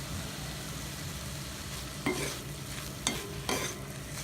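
Manathakkali is stirred in a pan, with a soft steady sizzle and a few distinct scraping clinks of the spoon against the pan; close and fairly quiet, with no talk.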